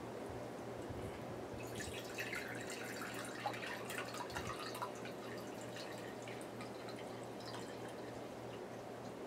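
Juice drips and trickles softly as it is poured out of a cheap juicer, faint continuous liquid spatter under a steady low hum, with no voices.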